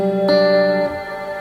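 A sustained electric guitar chord through a Kemper Profiler amp's long reverb rings out with a long, washy reverb tail that lingers and slowly fades after the notes stop.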